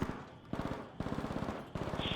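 Automatic gunfire from the video game Arc Raiders rattles out in several quick bursts of rapid shots, each burst separated by brief pauses, fairly close and alone without talk.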